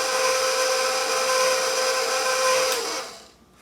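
An electric mixer runs steadily on low through cake batter, a constant close whirring hum that holds level before winding down and stopping near the end.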